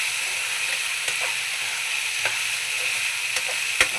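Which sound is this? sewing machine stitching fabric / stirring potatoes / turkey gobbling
stirring potatoes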